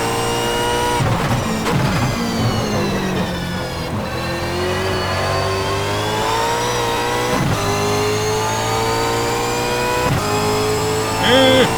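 Reiza Super V8 race car engine at Bathurst in a racing game, a loud continuous high-revving V8 roar with rising and falling pitch as it shifts through gears, sustained close throughout with no talk.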